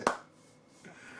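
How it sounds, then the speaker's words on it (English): A single sharp clap from a livestream Sunday morning gathering crowd, given as a Christmas clap, rings out once at the start and then fades into near silence. "everybody give the Christmas clap"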